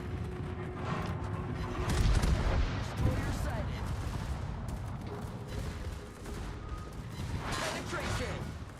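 Naval gunfire strikes a ship in World of Warships, coming as dense booming impacts and rumbling blasts that hold steady throughout, loudest around the middle, with a voice talking over the battle.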